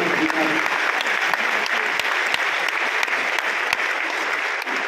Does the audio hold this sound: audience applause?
yes